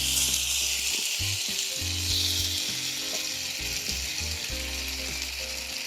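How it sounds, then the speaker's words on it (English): Beef added bit by bit to a hot pan with onion, garlic and ginger sizzles loudly and steadily, a dense continuous fry with faint low clunks of stirring and no talk. "Listen to that sizzle."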